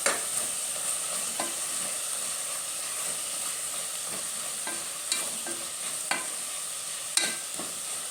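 Vangi bath powder being stirred into vangi bath in a cooker over a steady hissing sizzle, with a spoon scraping and occasionally knocking against the pot, close and continuous with no talking.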